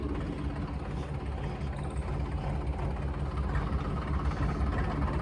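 A modified Mahindra tractor engine idles nearby, a deep, steady low-frequency rumble with a fast even chug throughout, alone without talk.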